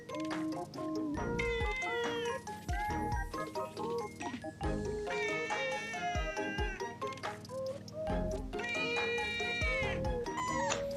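Cat meows rise and fall again and again, loud and close, with sweet drawn-out cries over a dense, steady backing that has deep thumping beats.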